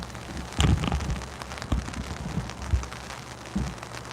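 Rain patters on an umbrella outdoors during a morning protest gathering, a dense steady drumming of drops with a few heavier thumps and knocks close to the microphone.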